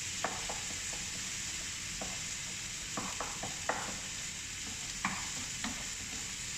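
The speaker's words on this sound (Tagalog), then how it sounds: "Gisa-gisa natin." Tuna and tomato paste sauté in a pan, giving a steady sizzle with repeated scraping and stirring clicks at close range and no talking.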